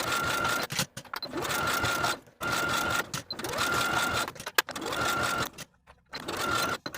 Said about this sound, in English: Now I'll take it to the sewing machine and edge stitch close to that top fold of the bias tape all the way across.